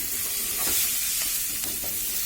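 Chicken pieces fry in a pan with very little oil over a gas flame, giving a steady close sizzle with a few scraping stirs.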